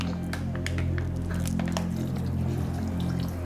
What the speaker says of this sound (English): pour some water in there